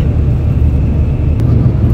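An Indra AC bus drives onto National Highway 216, heard from inside as a loud, steady low engine and road drone with a faint whir and one short click.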